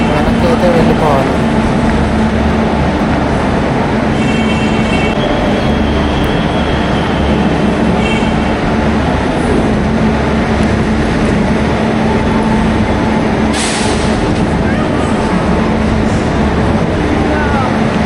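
A Pinakini Super Fast Express train, number 12711, rolls into its end point at MGR Chennai Central station with a steady, loud rail rumble that runs unbroken throughout, and faint voices are mixed in.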